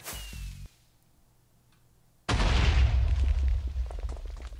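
A huge atomic bomb explosion in a Minecraft physics mod: after a brief low hum and near silence, a sudden loud, deep blast erupts and rolls on as a dense, rumbling roar with scattered crackles.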